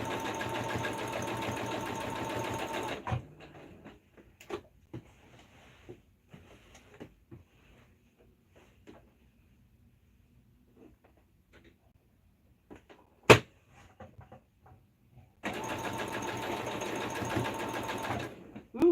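Sewing machine stitching denim during a jeans refashion, a loud steady whirring run at the start and again at the end, separated by quiet handling noises and small clicks.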